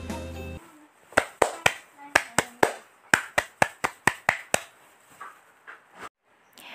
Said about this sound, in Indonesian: Pramuka memiliki tepuk yang khas. Tepuk tersebut disebut tepuk pramuka